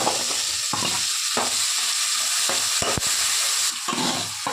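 Tomatoes fry for a home-cooked fish curry in a steady, close, loud sizzle, with a spoon stirring and scraping the pan at intervals throughout.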